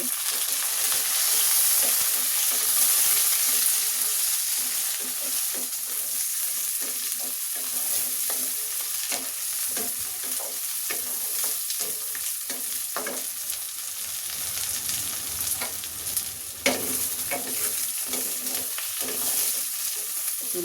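A fish head fries in a pan with pointed gourd and pumpkin, giving a steady, close sizzle with soft stirring scrapes throughout and no voices.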